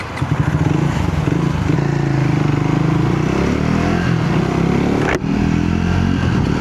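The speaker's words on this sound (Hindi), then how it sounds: "ट्राइम का जो एग्जॉस्ट ग्रंट है वो तो अमेजिंग है, और क्या पावरफुल है।" A Triumph Tracker 400 motorcycle exhaust rumbles loud and close while being ridden, a steady throbbing grunt that holds through the ride with a brief dip near the end, with no talk.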